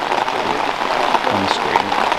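Heavy rain pouring down at an outdoor disc golf championship, a dense steady patter with faint voices murmuring underneath.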